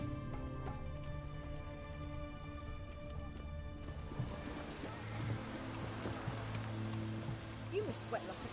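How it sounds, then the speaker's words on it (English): Steady rain in the video game The Witcher 3: Wild Hunt patters and hisses, picking up partway through, with a low background drone and faint distant sounds underneath. "Looks like rain."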